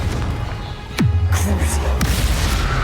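A Confringo fire spell explodes in Hogwarts Legacy with a sudden deep boom followed by a sustained low rumble, then a second blast hit, loud against steady game background.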